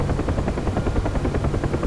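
A UH-1H Huey helicopter in the DCS flight simulator, its rotor thumping in a fast, steady rhythm over a loud engine drone, close and continuous with no talking.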